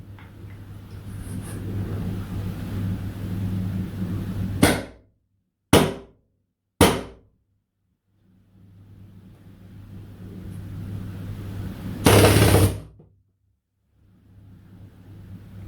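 Umarex HDP 50 pistol converted to magazine-fed full auto in .68 caliber, firing rubber balls on a low-pressure air tank, giving sharp loud pops, a few spaced shots then a longer rapid burst, over a steady low motor hum.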